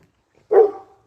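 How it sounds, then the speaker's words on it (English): A dog gives one short, sharp bark, fairly close, against an otherwise quiet background. "Noisy dogs."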